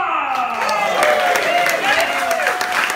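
An audience at a TV box-sets Q&A and bingo event claps and cheers, with voices whooping and calling out over a steady wash of applause.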